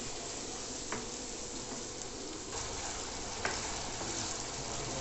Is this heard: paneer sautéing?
yes